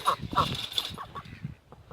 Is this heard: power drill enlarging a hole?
no